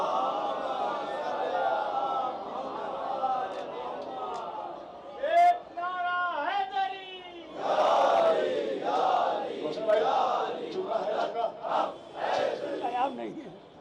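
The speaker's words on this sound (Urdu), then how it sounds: "ایک بواز بلند نعرے صلوات پڑھے" A crowd at a Jashn-e-Imam Ali poetry gathering in Bhopal loudly chanting salawat in unison, rising in repeated surging calls after a voice, with the chant swelling and falling in waves.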